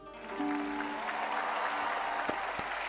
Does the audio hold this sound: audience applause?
yes